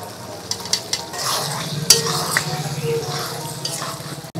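Shrimp and pointed gourd with potato and a ground coconut, poppy seed and green chilli paste being stirred and sizzling in a pan, with steady frying crackle, a few utensil scrapes and one sharp clink.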